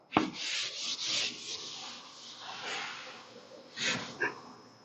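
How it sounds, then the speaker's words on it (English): A blackboard in a school classroom being wiped clean, with soft continuous rubbing strokes in several swipes, close and fairly quiet, with no talking. "So I just rub it off."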